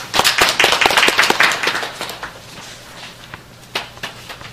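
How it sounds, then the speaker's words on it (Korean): An audience at a civic network's founding assembly applauds to welcome a speaker with a burst of close, dense hand clapping. It thins out into scattered claps and a few later taps. "박수로 환영해 주시기 바랍니다"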